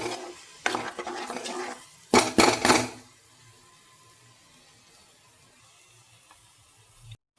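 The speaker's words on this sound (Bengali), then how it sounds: "একদম লো হিটে রেখে মশলাটা আরও পাঁচ মিনিট কষিয়ে নেব" Masala for chicken tikka masala being stirred and fried in a pan on low heat, with a few bursts of scraping and clattering from the spoon against the pan early on, then a faint, quiet sizzle left alone.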